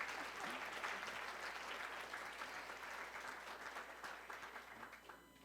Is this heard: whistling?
no